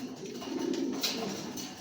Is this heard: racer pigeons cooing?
yes